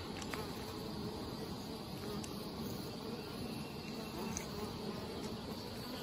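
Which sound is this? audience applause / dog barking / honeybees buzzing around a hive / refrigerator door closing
honeybees buzzing around a hive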